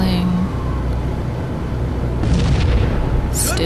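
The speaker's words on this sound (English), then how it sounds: "Trying to shoot the turret and failing." Gunfire aimed at a tank turret in Halo: Combat Evolved, a dense rumbling barrage of shots and blasts with a sharper burst near the end, mixed under game noise.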